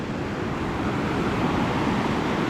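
Sea waves wash continuously against a rocky shore in a dense, even roar of surf with wind mixed in and no distinct single breaks.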